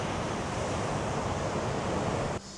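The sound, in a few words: large ocean waves breaking on a Kauai beach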